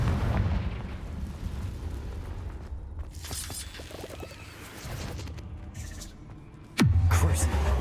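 Confringo explosive spell blasts in Hogwarts Legacy, heard as rumbling booms and crackling bursts, ending in a sudden loud low impact near the close, with game sounds in the background.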